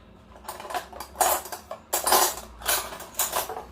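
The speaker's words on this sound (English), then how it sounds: "let's get a spoon out" Metal cutlery rattles and clinks as a spoon is pulled from a jumble of silverware during Ube and cassava cupcake baking, several short bursts of jangling at close range with no talk.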